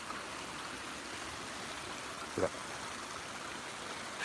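A waterfall on a countryside walk gives a steady, even rush of falling water from start to finish, with a brief voice in the middle.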